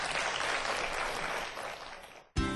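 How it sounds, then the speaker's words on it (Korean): A hall audience claps for a professor after a stem-cell science talk, a dense, even burst of applause that fades out over about two seconds before a sudden cut to a different sound. "최강렬 교수님께 큰 박수 보내드리겠습니다"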